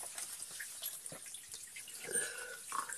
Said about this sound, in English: So there's water flowing through it.